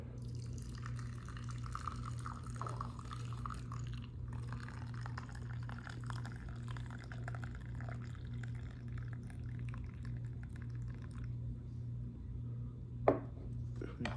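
Coffee pours from a Snow Peak titanium French press into a cup beside a Snow Peak backpacking stove. A faint liquid trickle sits over a steady low hum, with one sharp clink near the end and a few spoken words.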